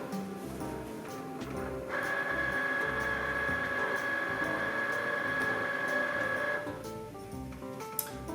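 A Cricut cutting machine powers up with a steady electronic tone and mechanical hum lasting several seconds before settling, set against a quiet room background.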